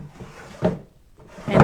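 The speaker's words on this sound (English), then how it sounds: "so that when I put my drawer in" A wooden drawer slides into a cabinet painted with chalk mineral paint, producing two short close wooden knocks and scrapes separated by a brief pause.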